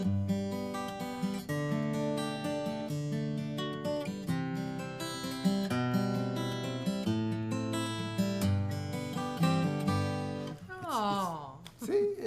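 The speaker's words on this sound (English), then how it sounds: "listen to that finger picking pattern" Acoustic guitar plays a simple finger picking pattern, with plucked notes ringing in a steady rolling rhythm, close and clear, and a short voice breaking in near the end.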